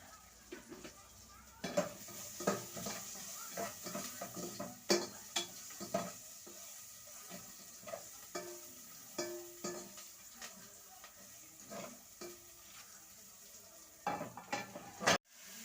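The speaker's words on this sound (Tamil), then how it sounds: "கிழங்கு போட்டு தாளிச்சு ஃப்ரை பண்ண வேண்டியது." Boiled tuber is fried with a tempering in a pan, a soft sizzle running under repeated scraping and stirring taps of a utensil against metal, close and fairly quiet, with a sharper clatter near the end.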